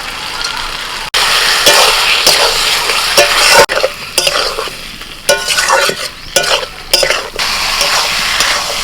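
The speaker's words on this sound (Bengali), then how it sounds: "আরও মিনিট পাঁচেক আমি কষিয়ে নিয়েছি আলু আর ঝিঙেটাকে মশলার সাথে" Fried potato and ridge gourd being sautéed with spices in a pan: a steady close sizzle broken by repeated scraping stirs and clinks of a spatula against metal, with a few sharp pauses.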